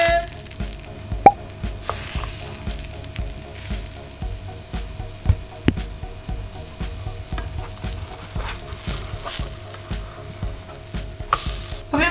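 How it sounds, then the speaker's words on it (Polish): Lentil patties fry in a pan with leftover onion and no added oil, giving a soft steady sizzle with occasional stirring and scraping clicks, close and fairly quiet. "Ja sobie przekładam i smażę kolejne."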